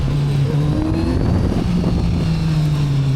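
A Kawasaki Z900RS SE motorcycle engine revs with direct throttle response, a steady droning tone that rises briefly and then falls back, heard close and alone.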